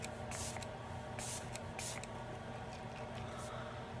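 Item Beauty One Hit setting spray mists onto a face in several quick, soft spritzes, close and faint against quiet room tone.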